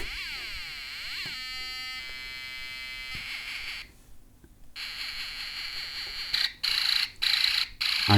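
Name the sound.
machine gun sound effect from a sound effects board kit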